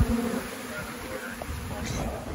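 Honeybees buzz steadily around a yard holding a few hundred beehives, a close, continuous drone with individual bees passing near.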